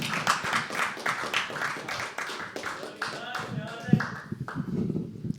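An audience at a live poetry open mic claps for the next performer, with a brief run of scattered, close hand claps mixed with voices talking.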